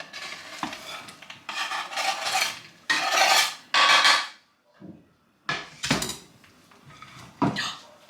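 Cookie dough with chocolate chips and flour being stirred and mixed in a bowl, a series of loud scraping, clattering bursts with brief pauses between strokes, no talking.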